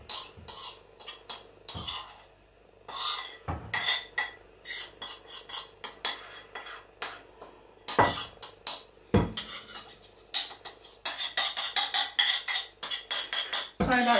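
Flour being sieved into a mixing bowl for a Victoria sponge, the sieve knocked and tapped against the bowl in rapid, irregular clinking and rattling bursts, close and fairly loud, with no talking.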